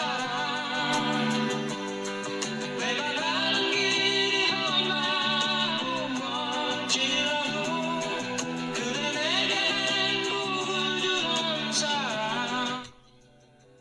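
Mobile phone ringback tone playing an old Korean pop song, with steady melody and accompaniment running loud and continuous for about thirteen seconds before cutting off abruptly.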